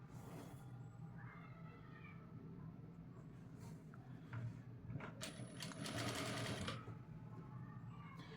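A sewing machine stitches a piped cutwork blouse panel, its motor whirring in bursts that swell louder toward the end, with a cat meowing faintly in the background.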